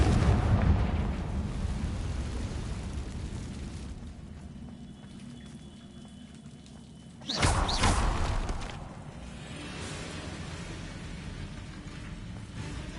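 A Confringo fire spell blast in a Harry Potter wizarding video game: a low rumbling ambience settles, then a sudden loud explosive burst erupts and fades into a lingering crackling roar.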